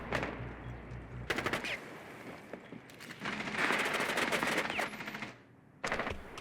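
Rapid automatic gunfire in the video game Rainbow Six Siege, heard as several dense bursts of rattling shots with brief quiet gaps between them and no talking.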